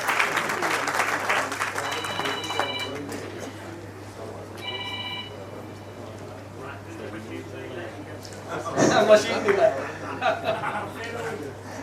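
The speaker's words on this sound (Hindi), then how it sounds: "एक बार बहुत जोरदार तालियां" Audience applause at a Saifi Day book launch comes in bursts, with a loud rise near the end, mixed with chatter, laughter and a phone's electronic ringtone beeping twice.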